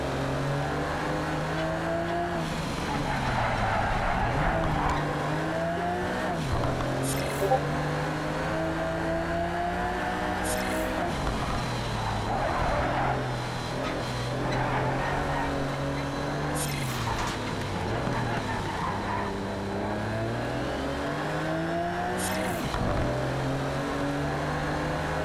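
Race car engines in the racing game Project CARS drone and rise through repeated gear changes, pitch climbing and dropping as the cars accelerate and brake, with voices talking over the continuous engine roar.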